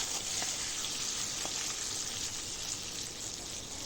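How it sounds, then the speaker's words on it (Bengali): Potatoes frying in hot oil in a pan for Bengali-style egg curry give off a soft, steady sizzle with a few faint pops and crackles. "তো সেই তেলটার মধ্যে আমি আলুগুলোকেও ভেজে নেব"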